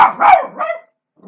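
A dog barks a few times in close succession, loud and near, the sharp barks fading out into near silence at the end.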